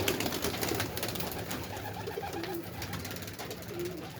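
Pigeons coo in soft, repeated low calls close by, layered over a steady background hum with no talking.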